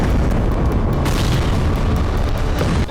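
A powerful blast from an Israeli airstrike on Baalbek, Lebanon: a loud, sustained low rumbling roar that fills the whole clip with dense booming energy and no speech.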